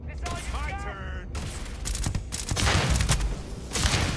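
Bursts of weapon fire in a combat scene from the video game Starfield, several loud cracking volleys in close succession after a brief spoken moment, with voices mixed into the action.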